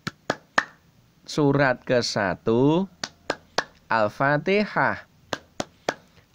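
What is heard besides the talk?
rhythmic hand clapping chant, tepuk Al-Fatihah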